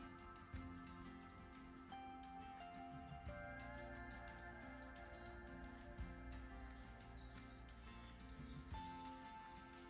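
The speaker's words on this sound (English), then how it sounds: "Those birds are really tweeting today." Small birds chirp and tweet in quick repeated bursts, fairly close, over a steady low hum with no talking.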